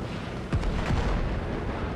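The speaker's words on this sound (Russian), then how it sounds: "Ну, давай, давай, взрывайся!" A couple of deep booming blasts in the Men of War Assault Squad video game, one after another close together, heavy and rumbling over a noisy battlefield background.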